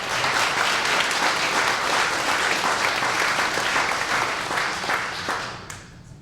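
A bar crowd at a political panel event breaks into loud, full clapping that holds steady for several seconds, then tapers off near the end.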